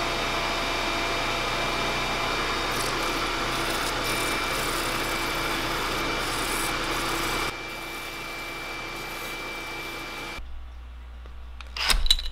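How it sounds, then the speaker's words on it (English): A power sander shaping a swimbait fishing lure, giving a steady loud whining drone that shifts pitch partway through and then cuts off, leaving a few clicks and handling noises. "That's so I can hold onto it while I put it against a sander."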